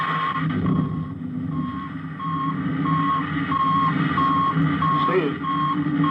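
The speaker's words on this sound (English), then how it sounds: "now I'm advancing the ignition key. There goes rocket one." Rocket engine ignition and launch effect from a 1950 science-fiction radio drama: a steady, loud, dense roar that holds for several seconds, with a faint repeating tonal beep running through it.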